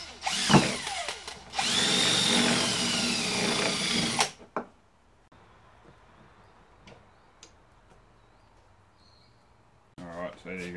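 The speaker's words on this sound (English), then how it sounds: "I'm going to drill a hole either side" A power drill whines loudly through two bursts while drilling holes into a Ryobi One+ battery adapter for a DeWalt battery, stopping for a quiet stretch of faint ticks before a short final buzz.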